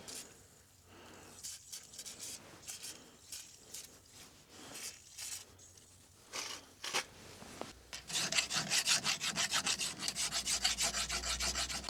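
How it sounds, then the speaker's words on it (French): Brushing and cleaning out a wheel-speed sensor hole on an Audi A3 8P, a close scratchy rubbing that comes in short uneven strokes, then turns into a faster, louder run of brisk scrubbing near the end. "on va nettoyer le trou, mettre un coup de brosse"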